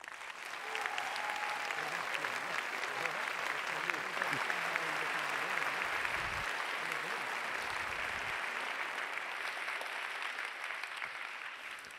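Sustained audience applause welcoming Nobel laureate John Jumper to the stage for his Nobel lecture on protein structure prediction, a dense, steady clapping from a large hall that continues unbroken throughout.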